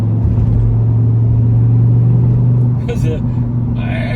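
A 2005 Dodge Ram SRT-10 Viper commemorative edition truck drives through an S-curve section, its engine rumbling loud and steady close up, then easing slightly, with a few brief higher noises near the end.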